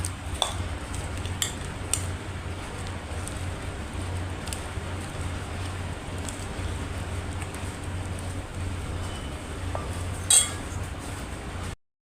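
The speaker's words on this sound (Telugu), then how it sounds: "అంతా కలిసేటట్టు మిక్స్ చేసుకుందాం." A spoon clinks and scrapes against a bowl, mixing ground chilli powder and crushed garlic into an Andhra-style bitter gourd pickle, with a low background hum under the irregular metallic taps.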